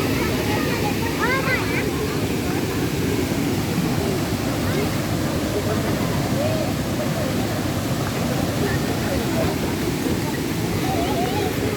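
Waterfall at Cachoeira dos Pássaros near Presidente Figueiredo, Amazonas, a constant loud rushing roar of falling water with a faint murmur of voices blended into the wash.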